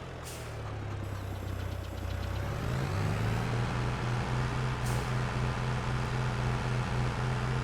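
A tractor engine labours to pull a plough in the Farming Simulator 22 video game, a steady loud drone that deepens and strengthens after a couple of seconds and then holds a constant heavy rumble throughout, with no talk.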